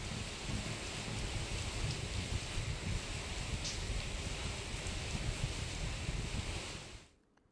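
Steady rain pours down in Medak district as a dense, even hiss with a low rumble underneath, holding level before dropping away abruptly near the end.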